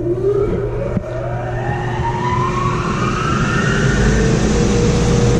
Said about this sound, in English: the first thing you're going to do is turn on the blower.